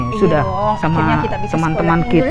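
A wailing police siren sweeps faintly in the background beneath continuous close conversational speech throughout.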